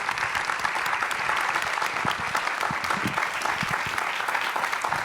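A live audience in the room gives a warm round of applause after a panel exchange, sustained, even clapping from many people throughout, fairly distant and moderately quiet, with no speech on top.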